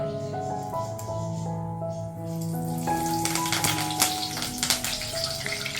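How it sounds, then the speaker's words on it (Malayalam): Curry leaves hit hot coconut oil for a beef roast, and a bright, crackling sizzle builds in the second half after a tonal hum in the opening seconds. "അപ്പോൾ നമ്മുടെ വെളിച്ചെണ്ണ നല്ലോണം ചൂടായിട്ടുണ്ട് അപ്പോൾ നമ്മൾ അതിലേക്ക് ഫസ്റ്റ് തന്നെ രണ്ട് തണ്ട് കറിവേപ്പില"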